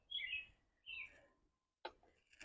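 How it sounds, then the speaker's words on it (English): Garden birds give short, high chirps and calls, two quick bursts followed by a sharper note, faint and close. They come out of near silence, with no talk. "You hear the birds? Do you hear them?"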